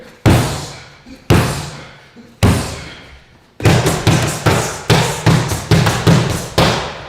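Hammer fist strikes landing on a training pad in a kick and punch drill: a series of loud, close thuds, a few spaced out at first, then quicker repeated blows, with no talking.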